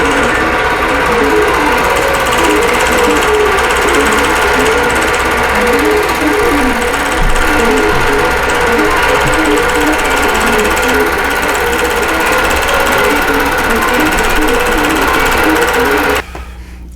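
A longarm quilting machine stitches a double wedding ring quilt pattern in Topaz fabrics, giving a steady, loud, continuous rapid mechanical hum and needle rattle that runs unbroken for about sixteen seconds before dropping off at the end.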